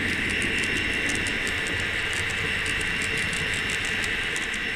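A DC model train runs continuously on a layout, a steady mechanical whir with faint rhythmic clicking of wheels on track, close and unbroken.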